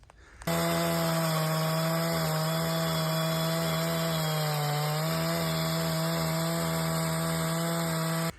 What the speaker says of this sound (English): I've got a couple big chunks that are fairly solid through the middle that I'm milling